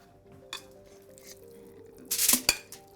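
Seasoned chicken wings tossed together in a metal bowl, with soft clinks and scrapes building to a louder burst of clattering near the end, close up and with no talk.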